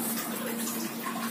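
Water poured from a quarter-cup measure into a bowl of maida flour, salt and cumin while making samosa dough, giving a soft, steady close-up splashing trickle with no talk.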